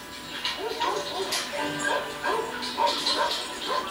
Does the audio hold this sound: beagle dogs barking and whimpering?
yes